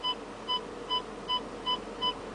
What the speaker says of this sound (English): the beeping should get faster and louder